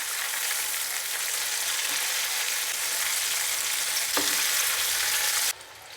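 Chicken strips in a crispy coating fry in hot oil for a KFC-style dish, giving a steady, loud, close sizzle that runs throughout and drops off sharply near the end.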